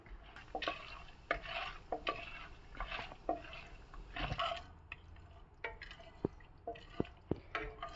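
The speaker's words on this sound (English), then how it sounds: "Mix it together for 2 to 3 minutes until they become a brown color" Peanuts and split Bengal gram frying in a pan as a spoon stirs them, giving soft rustling sweeps and clicking taps over a light sizzle, close but fairly quiet and irregular.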